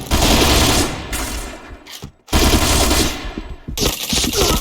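Rapid automatic gunfire in the video game Point Blank, with loud sustained bursts broken by brief pauses, up close and dense.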